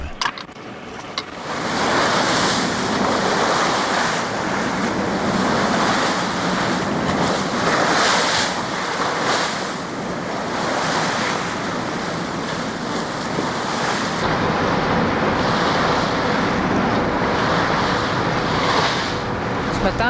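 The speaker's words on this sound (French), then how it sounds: "alors il y a les vagues aussi" Waves in the open waters of the Laptev Sea heard from a vessel, a loud continuous wash and roar of water with wind noise buffeting the microphone, steady for most of the stretch.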